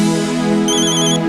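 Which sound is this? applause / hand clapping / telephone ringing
telephone ringing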